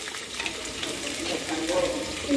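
Tap water running while dishes are washed in a small hostel-style kitchen, a continuous splashing hiss with a voice speaking faintly over it.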